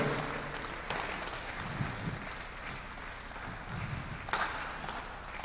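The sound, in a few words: applause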